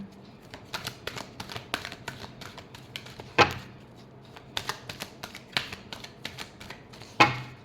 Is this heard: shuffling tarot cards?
yes